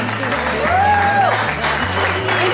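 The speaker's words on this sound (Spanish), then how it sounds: "Gran aplauso para ella." Audience applause at a music show in a resort club rises over loud music with a pulsing bass line, and a voice is briefly heard through the crowd noise.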